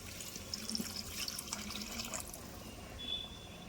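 Hot water poured into a pot of mutton curry during cooking, a soft steady splashing and trickling that runs close and faint throughout with no talk.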